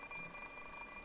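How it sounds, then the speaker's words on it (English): An alarm clock ringing in the Fate/Stay Night visual novel, a steady, continuous electronic tone heard alone without a break. "I stare at the alarm clock for several seconds. Shutting it off, I decide to get out of bed."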